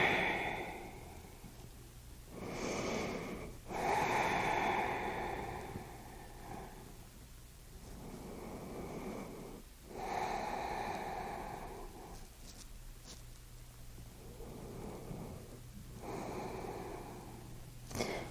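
Slow, deep abdominal breathing during a back-focused yoga exercise, with long audible inhales and exhales recurring every few seconds, close and soft against a quiet room hum.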